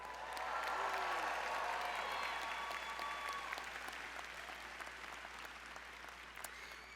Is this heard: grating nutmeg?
no